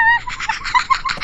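Ducks quacking in the Melon Playground video game: a rapid run of short, bright, nasal quacks that repeat close together, clear and unaccompanied.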